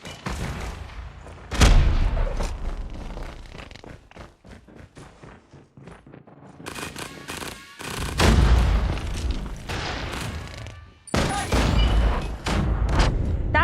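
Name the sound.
grenade explosion and gunfire in Call of Duty video game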